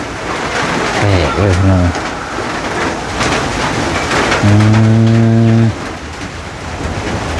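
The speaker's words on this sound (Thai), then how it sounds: "ฝนตกแบบนี้" Heavy rain pours in a continuous dense hiss, loud and close, while people talk over it in two short stretches.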